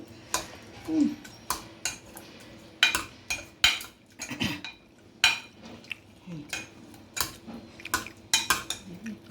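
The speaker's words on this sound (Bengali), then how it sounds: "এখন একটুখানি হাতা দিয়ে এটাকে একটু ইয়ে করে দিচ্ছি, নাড়িয়ে দিচ্ছি" A metal ladle stirs and mashes boiled chickpeas in a cooking pot for chole, giving irregular near clinks and scrapes against the pot with quiet pauses between strokes.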